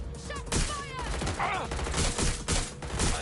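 Rapid bursts of gunfire in the video game Watch Dogs: Legion crackle in quick volleys with game-style effects, while voices talk briefly over the shooting.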